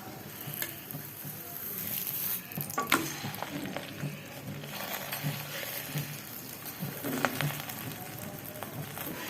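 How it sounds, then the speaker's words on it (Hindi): Mooli paratha frying in ghee on a hot pan, a steady close sizzle with soft scraping and tapping as it is turned, no talking. "पराठा हमारा फ्राई हो रहा है।"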